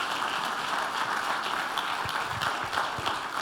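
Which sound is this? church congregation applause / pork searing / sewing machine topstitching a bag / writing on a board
church congregation applause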